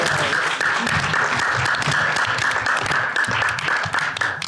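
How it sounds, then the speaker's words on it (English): An audience at a district quiz bowl gives a loud, sustained round of applause, dense clapping continuing steadily throughout. "Can we all do one last round of applause here for that?"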